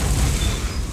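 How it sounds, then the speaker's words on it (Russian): An explosion inside a hangar in the survival game DayZ Standalone, heard as a loud, dense rumbling boom that fills the whole second without easing off. "у тебя только что взрыв был. Был в этом в ангаре."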